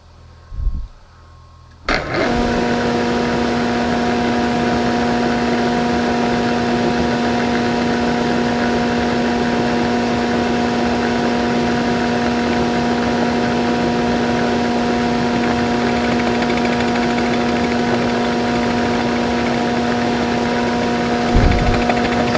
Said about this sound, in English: we'll just, you know, take it all the way down to the face with an end mill